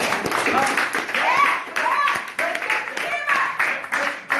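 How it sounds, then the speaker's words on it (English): A theater audience at an improv graduation show claps and applauds together, a dense ongoing patter of many hands, with voices and cheers mixed into the crowd noise. "Give Coach Jake a round of applause"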